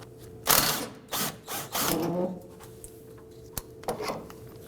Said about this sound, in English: once it starts coming out, you can go ahead and use power tool.